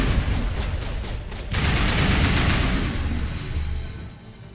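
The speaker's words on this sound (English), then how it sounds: "Wait, why are you shooting?" Gunfire in the video game Mass Effect Legendary Edition, a loud, dense burst of rapid automatic shots and crackling impacts that swells, holds and then eases off, with no voices.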